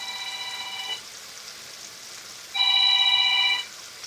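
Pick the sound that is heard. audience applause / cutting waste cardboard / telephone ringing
telephone ringing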